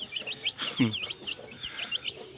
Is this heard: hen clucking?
yes